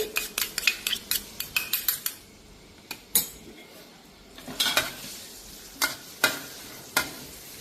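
Garlic and chili stir-fried in about a tablespoon of oil over medium heat for Thai holy basil chicken, with a rapid run of close metal utensil scrapes and clanks against the pan, then scattered single knocks over a low sizzle.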